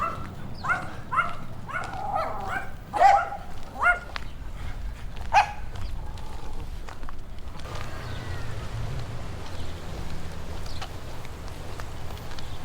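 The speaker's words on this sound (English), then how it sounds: "Dogs are barking. It's a little chihuahua and another dog." A small chihuahua and at least one other dog bark in a string of sharp, mid-distance yaps and woofs, then fall quiet, leaving a steady outdoor hiss in a Texas border town near the Rio Grande.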